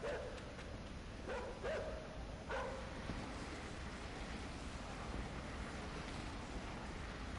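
Dogs bark in the video game INSIDE, a few short yaps early on that come in quick pairs, moderately distant over a steady low ambient rumble that carries on after they stop.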